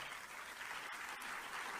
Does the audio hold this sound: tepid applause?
yes